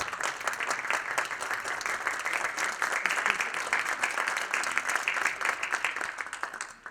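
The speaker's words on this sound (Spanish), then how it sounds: "despidamos con un aplauso a Zeca Ligueiro." Steady applause from an audience at an academic panel on samba schools and carnival, dense and sustained clapping throughout at moderate volume, with no voices standing out.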